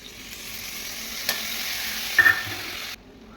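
Sour yogurt going into frying masala, with a steady close sizzle and hiss from the pan, a brief clink midway and a short stirring scrape near the end before it cuts off.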